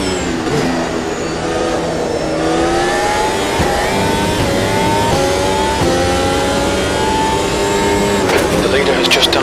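Race car engine on a hot lap in the Automobilista 2 racing game, a loud sustained high-revving whine that climbs through the gears with brief shift dips.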